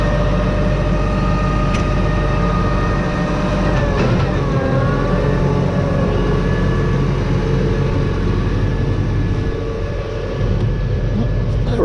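Steady low drone of a John Deere 8R 370 tractor engine running on a farm, heard from inside or near the machine; a loud, continuous rumble with a brief pitch shift partway through.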